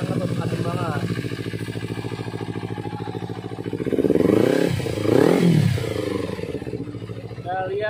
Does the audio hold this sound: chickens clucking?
no